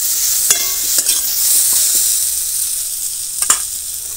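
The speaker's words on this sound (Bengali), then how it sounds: "হলুদ দেওয়ার পরে আরও একটু ভেজে নিচ্ছি সবজিটা, যাতে আলুটা অনেকটাই সেদ্ধ হয়ে যায়" Mixed vegetables with potato frying in a pan after turmeric is added, a steady bright sizzle under several clattering stirs of a spatula against the pan, close and fairly loud.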